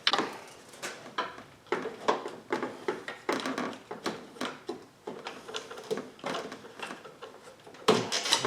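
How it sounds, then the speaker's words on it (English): Quick repeated ratchet clicks in short bursts as a wrench and ratchet remove a 10 mm bracket bolt on a 2015 Town and Country 3.6L, close and crisp with brief pauses between strokes. "So let me get a wrench, a ratchet, and get that off there."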